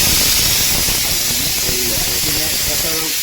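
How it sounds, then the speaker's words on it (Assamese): A pressure cooker cooking rice vents steam in a strong, continuous hiss that lasts throughout, with a voice talking faintly beneath it. "প্ৰেছাৰ কুকাৰৰ ভাত হৈ গৈছে, তাৰে আগজাননী আমাক দি দিছে।"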